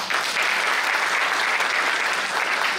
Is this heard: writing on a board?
no